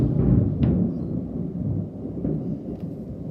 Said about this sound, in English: so I told you it was stormy.